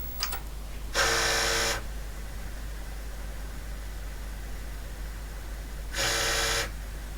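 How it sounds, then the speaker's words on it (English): An HP-85B computer's tape drive erasing a tape gives two short bursts of mechanical whirring, each under a second and about five seconds apart, against a quiet steady hum. "we do that with the erase tape command. And hopefully the tape drive will respond."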